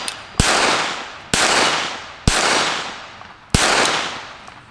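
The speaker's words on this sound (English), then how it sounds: "it's definitely a light shooting gun, even though it doesn't weigh anything" KelTec P17 .22LR pistol firing four sharp, evenly spaced shots, each a loud crack followed by a long decaying echo, with no talking.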